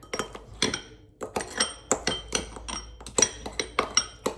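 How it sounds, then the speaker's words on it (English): A knife and fork break up a hard, underripe avocado in a bowl, with a rapid series of a dozen or so close metallic clinks and scrapes against the dish. "Break it up with a knife and a fork"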